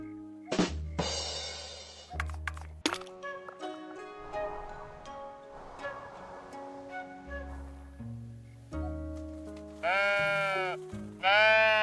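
Sheep bleating in the video game Tiny Glade, with several short bleats over a soft melodic game soundtrack and a louder, clearer bleat near the end.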